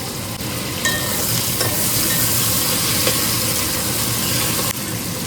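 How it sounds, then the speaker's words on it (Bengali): Onions frying in a pan on a high flame for Kolkata-style chicken biryani, a loud, constant hiss of hot oil with a few faint clinks of stirring. "এবার এই পেঁয়াজটা হাই ফ্লেমে তোমাদের ভাজতে হবে, পুরো একদম হাই ফ্লেমে এটা ভাজতে হবে।"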